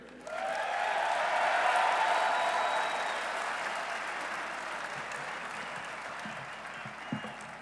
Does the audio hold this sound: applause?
yes